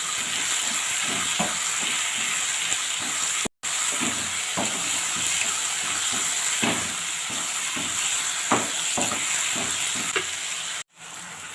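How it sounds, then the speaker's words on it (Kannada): Mushrooms frying in a pan for a mushroom pepper fry, with a continuous close sizzle and hiss broken by repeated soft scrapes and stirring taps, stopping briefly twice. "ಇದನ್ನು ಇನ್ನು ಚೆನ್ನಾಗಿ ಫ್ರೈ ಮಾಡ್ಕೋಬೇಕು."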